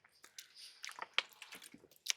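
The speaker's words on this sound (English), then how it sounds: "Excuse me when I get a drink of water." A person drinks water, with soft wet gulps, sips and small mouth clicks spaced irregularly, close and quiet.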